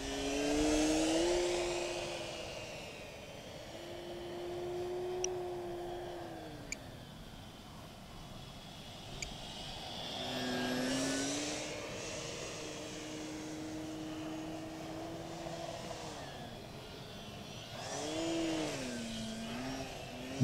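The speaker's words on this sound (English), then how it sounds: "this plane flies beautifully" A Park Zone Corsair RC plane with a 1350 kv motor, 10x7 prop and 3S battery flying overhead, its electric whine rising and falling in pitch as it passes, rolls and loops, steady and moderately distant throughout.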